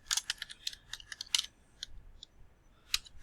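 Computer keyboard typing comes as a quick run of crisp, close key clicks, then pauses with a few scattered taps and a final pair of clicks, with no talk.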